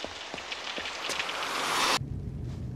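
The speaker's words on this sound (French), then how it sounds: "La pluie, toujours la pluie. Oh, mais ça commence à devenir le déluge, ma parole." A heavy rain downpour in an animated cartoon scene hisses as a dense, loud wash with scattered drop impacts, swelling louder before cutting off abruptly.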